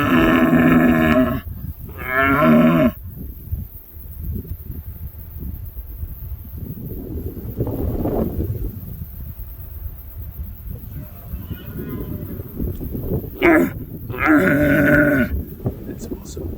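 Red stag roaring on public land in the Remutaka hills of New Zealand, long deep guttural bellows at the start and again near the end, fairly distant, with wind and rustling filling the gap between roars.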